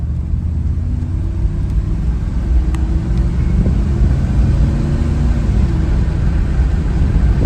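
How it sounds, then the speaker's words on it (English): A 1987 Cadillac Brougham engine rumbles and pulls as the car accelerates at full throttle, low droning motor noise with road roar, steady and close from inside the cabin. "Get on the road here and mash the gas and see how she does."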